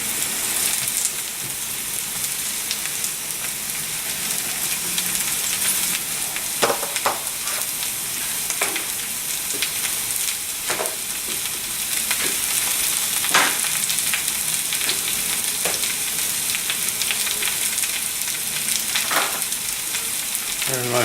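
Baby bella mushrooms sizzling in a pan with onions and peppers, a steady dense crackle with occasional louder pops and stirring scrapes, continuous and close with no talking.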